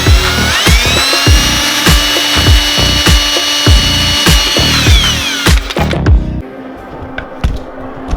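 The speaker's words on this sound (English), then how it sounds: "So I started some pilot holes for that. We're gonna need some bigger drill bits" Repeated short bursts of a power drill boring pilot holes, loud and close, with ratcheting clicks, then quieter tool handling toward the end.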